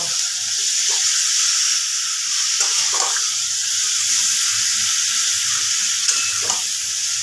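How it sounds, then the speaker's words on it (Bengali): Chicken meat sizzles loudly and steadily in a pan while being stirred, a dense continuous hiss with faint scraping movements underneath. "এবার মাংসটাকে একটু নাড়াচাড়া করে নেব"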